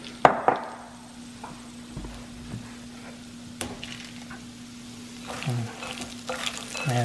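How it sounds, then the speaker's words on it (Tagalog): Adobong mani peanuts are stirred in a dish after microwaving: a spoon scrapes and clinks through the nuts, with a few sharp knocks near the start and more toward the end, close and fairly clear over a steady low hum. "Haluin na natin."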